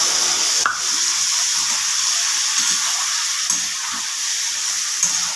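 Drumstick, potato and brinjal fry with mustard and poppy seed paste, giving a steady soft hiss with a few quiet stirring knocks underneath and one sharper scrape near the start.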